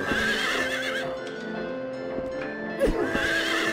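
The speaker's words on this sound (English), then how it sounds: "How many more horses do I have to kill?" A horse in the video game Silent Hill 3 lets out a loud, close neigh and whinny, followed by a second short, shrill cry near the end.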